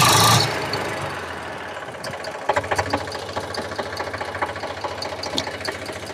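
An Eicher 485 tractor diesel engine, just repaired for a white smoke problem, idles close by with a steady, even knocking beat after a loud initial burst.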